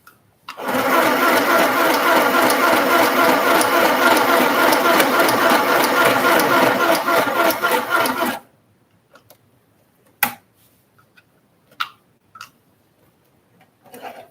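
A sewing machine stitches a buttonhole in one continuous, rapid, rhythmic run for about eight seconds, then stops, leaving a few faint clicks and knocks.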